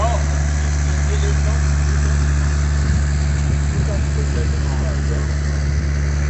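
Car engine idling and revving steadily at an outdoor spring swap meet, a loud continuous low rumble throughout with a person talking over it.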